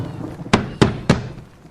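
Three heavy, evenly spaced bangs on a bedroom door, loud and close, each a sharp thump with a brief dull decay over a quiet room.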